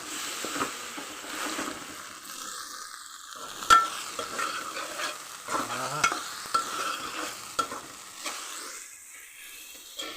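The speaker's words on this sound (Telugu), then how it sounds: "కారం సాల్ట్ చక్కగా ఏగుతుందన్న" Chili powder and salt frying with ivy gourd in a pan, a steady sizzle with occasional scraping stir strokes and clinks, close and moderately loud with no talking.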